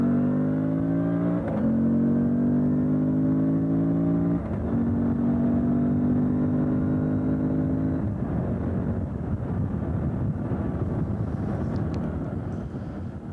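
A Moto Guzzi V85TT motorcycle accelerates hard from 0 to 130 km/h on the road, its engine rising in pitch through several gear changes with brief dips between shifts, loud and close under heavy wind rush.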